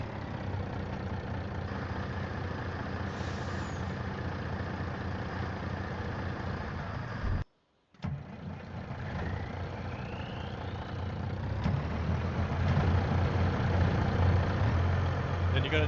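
A truck engine idling in Farming Simulator 25, heard as a steady low rumble that briefly cuts out and then swells a little louder, with someone talking over it.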